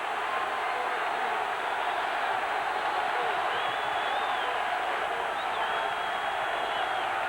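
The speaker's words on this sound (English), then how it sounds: "Crowd making it rough on McDonald's count" A stadium crowd at a 1979 USC at Notre Dame college football game gives a steady, dense, unbroken roar that fills the whole stretch, loud and wide with no distinct voices.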